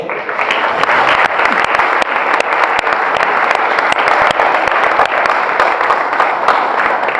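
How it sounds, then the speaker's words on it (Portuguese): A large crowd at a church congress applauding loudly and steadily, sustained clapping filling the room without pause. "Dê um aplauso ao Senhor."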